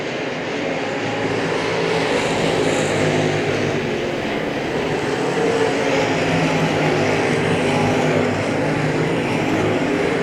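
Race cars roaring on the dirt track at Hagerstown Speedway, a dense, steady engine drone from several cars at a distance, continuous and loud throughout with no breaks.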